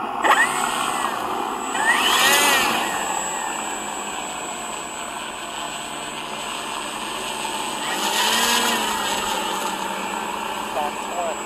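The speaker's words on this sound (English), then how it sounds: "Engine on." Carbon Z T-28 model airplane with its electric motor running at the field, a steady whine that swells twice in sweeping passes, loud and fairly close, with occasional voices nearby.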